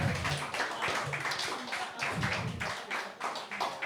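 Crowd at a slam poetry contest in Nice claps for a poet, a dense, moderately loud patter of hands with no speech over it.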